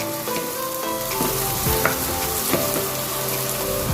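Onions for chicken biryani fry in a pan, turning crisp, with a steady loud sizzle and crackle, plus occasional stirring scrapes and clinks, and no voices.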